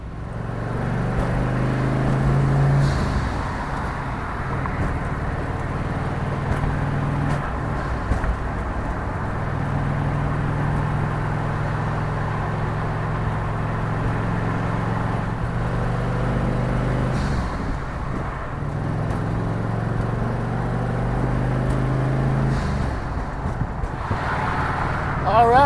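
A turbocharged Ford Mustang driving on the road, its steady engine drone and tyre rumble continuous and fairly loud, with engine pitch shifting slightly as it changes speed.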